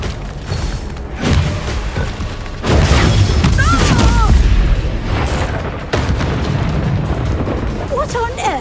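Blasts from the Confringo spell in Hogwarts Legacy, a series of loud booming explosions at close range, with spoken voices over and between them.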